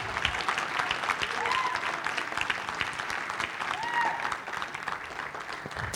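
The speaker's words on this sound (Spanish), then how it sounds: "dele el aplauso al Señor entonces" A church congregation applauds steadily for several seconds, a dense, even patter of many hands with faint voices mixed in.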